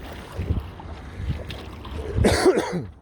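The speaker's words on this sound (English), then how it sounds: "Still dealing with this cough." A harsh cough bursts out near the end, a couple of rough throaty hacks after a stretch of quiet low rumbling background.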